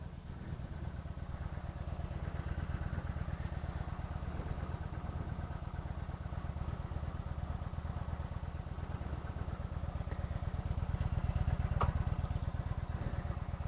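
A Kawasaki Vulcan 900 motorcycle engine idles at a steady, low rumble with an even, rapid pulsing beat, fairly quiet and unchanging throughout.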